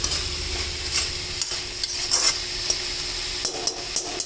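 Amaranth leaves with plenty of garlic stir-fried in a heavy pan over low heat, a steady soft sizzle with scraping stirs and light utensil clinks, close and alone.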